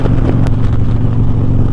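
Harley-Davidson M8 motorcycle with new slip-on exhaust giving a loud, close, deep steady rumble while riding, with no talk over it.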